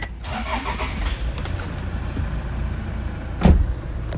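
A car engine cranks and starts once near the end, a short loud burst after quiet interior rustling, with no talk.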